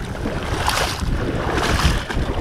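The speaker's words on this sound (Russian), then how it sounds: "юг так и дует уже вот, который день" A south wind blows on the White Sea shore, a broad continuous rush buffeting the microphone with waves washing in beneath it, loud and steady with no voices.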